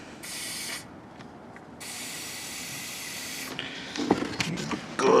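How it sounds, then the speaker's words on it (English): An aerosol spray hisses oil under a car in two long bursts with a short pause between, followed by clicking and rattling handling noises up close. "Good spraying of oil."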